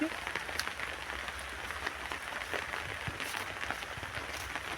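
Rain falls all day over a home garden with a champa tree, a soft steady patter with scattered sharper drops. The rain is quiet and continuous, and no voices are present.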